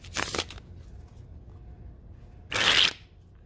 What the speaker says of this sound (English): We're gonna do what we call the upside down shuffle.